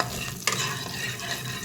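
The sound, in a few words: black cumin seeds tempering in a hot wok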